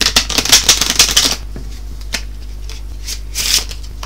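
A deck of playing cards is shuffled up close, with a dense burst of riffling for over a second, then a few isolated soft card taps and a brief second flutter.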